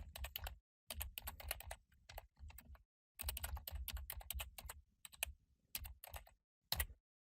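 Quick typing on a computer keyboard while renaming a design option in Revit: close, crisp key clicks in rapid bursts separated by short silent pauses, with no talking.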